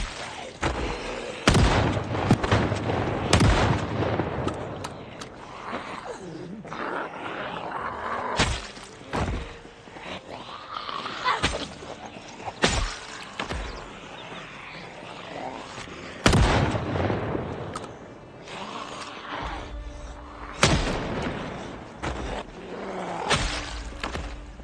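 Gunshots in the Project Zomboid video game come as repeated sharp, loud cracks, some closely doubled, spread through the stretch over a low background bed.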